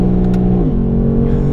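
A 2018 Lexus RC-F engine revs hard toward the red line, a loud close-up roar whose pitch climbs, dips sharply at a shift, then builds again.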